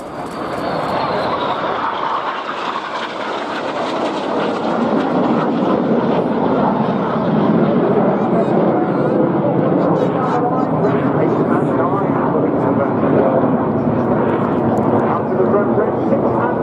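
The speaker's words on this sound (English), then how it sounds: "The aircraft about to pass 100 feet apart in the spectacular Jimbo Pass." Hawk T2 jets pass closely at the RNAS Yeovilton International Air Day, a loud, sustained roar that swells and holds, with a whining tone sliding downward in pitch as they go by.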